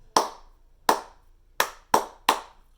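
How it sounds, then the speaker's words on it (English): Hands clap the poison rhythm long, long, short, short, long: five sharp, close claps, the first two spaced widely and the last three coming quicker, each ringing briefly in a quiet room. "You're going to clap back every single rhythm unless you hear me clap that poison rhythm."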